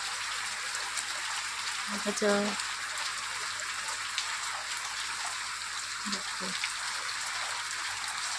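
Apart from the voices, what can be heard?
heavy rain falling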